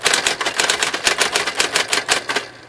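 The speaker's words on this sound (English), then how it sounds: "Nice little typewriter." Rapid, evenly paced keystrokes from a Smith Corona Coronet electric typewriter, about twenty sharp close-up clacks in a brisk run that stops near the end, heard alone.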